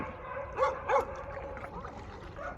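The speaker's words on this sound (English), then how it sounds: "What are they even barking at?" Dogs on stilt houses over the sea in a Vietnamese fishing village, two sharp barks close together followed by softer yips and whimpers across open water.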